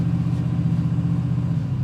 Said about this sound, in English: hear that exhaust brake?